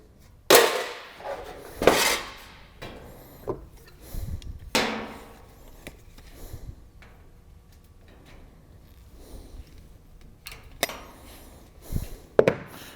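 Hammer blows flattening a bent sheet metal hem during a plumbing installation, several sharp loud metallic strikes spaced irregularly with quieter handling noises between them.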